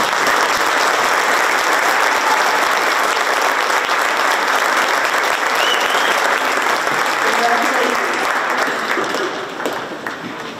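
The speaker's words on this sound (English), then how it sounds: "Can we give them a round of applause?" Sustained applause from the audience at a high school senior awards ceremony, a dense, loud round of clapping that carries on steadily before tapering off near the end.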